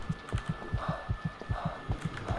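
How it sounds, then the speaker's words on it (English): A thudding heartbeat from the video game White Day rises as the character runs, with a steady, quick double-pulse rhythm repeating close and prominent over a faint background hum. "you'll notice our heartbeat actually does go up as I'm running like this"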